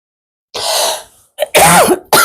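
Several close, harsh coughs from one person in quick bursts, the first drawn out and the rest sharper and choppier, with silence between them.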